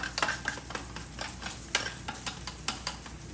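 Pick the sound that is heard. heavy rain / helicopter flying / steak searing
steak searing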